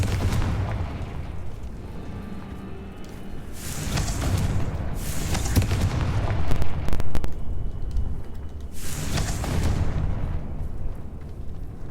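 Bombarda and Confringo explosion spells go off in the video game Hogwarts Legacy. Three loud, rumbling blasts burst over a continuous low game background, each swelling and then fading.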